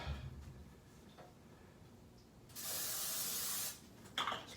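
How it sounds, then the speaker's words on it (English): Cooking spray hisses from an aerosol can into a pan in a home kitchen, one steady burst of about a second, with a short second squirt after it, against quiet room tone. "Oh, I need some cooking spray."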